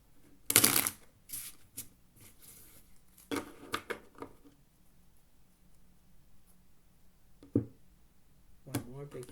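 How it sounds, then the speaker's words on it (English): A deck of playing cards is shuffled at a poker table, a loud riffle burst up front followed by softer riffles and card taps, with quiet pauses between them. "Now I'll do one big shuffle."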